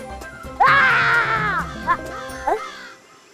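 A loud, harsh, screeching scream from a demon in the Colors TV mythological series Shani, a drawn-out wail that falls away into two shorter shrieks before fading out.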